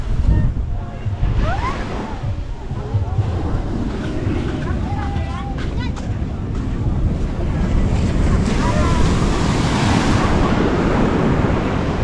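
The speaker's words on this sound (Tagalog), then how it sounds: "Ang lakas ng alon." Heavy surf crashes and rolls steadily beneath strong wind buffeting the microphone, with a voice briefly audible near the start.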